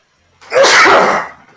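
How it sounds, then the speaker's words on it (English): One loud, close human sneeze that bursts out sharply after a moment of quiet, then fades as a breath follows. "I got to sneeze so bad."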